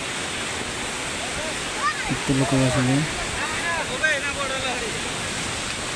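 Sea waves surging onto the beach at Puri, a steady broad wash of surf running throughout, with people talking over it nearby.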